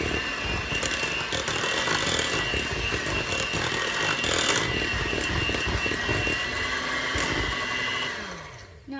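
Electric hand mixer beating butter and eggs in a bowl, a loud continuous motorized whir with rattling of the beaters, holding steady for several seconds before winding down and stopping.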